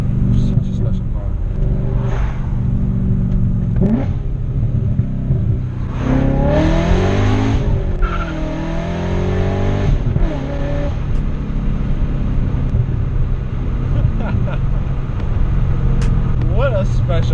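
A BMW M4 being driven revs hard and accelerates, the engine note sweeping upward through a loud stretch in the middle over a constant road rumble, with someone talking throughout.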